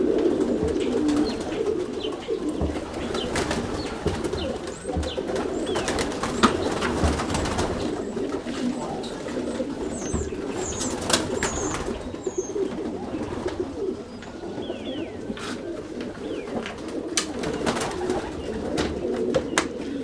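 Roller pigeons coo steadily in a low, continuous murmur, with occasional soft chirps and brief flutters over a busy background.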